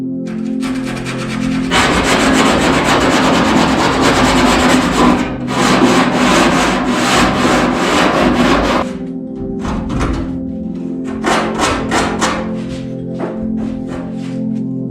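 Coarse 40 grit sanding disc grinding against a vintage car roof panel during a sunroof install, loud rasping bursts lasting several seconds each, separated by brief pauses.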